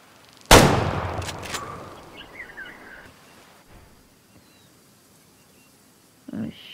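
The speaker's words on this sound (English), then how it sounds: "A shot." Single sharp rifle shot in the hunting game Way of the Hunter while culling mule deer, loud and sudden with a decaying echo, followed by quiet ambience and faint bird calls.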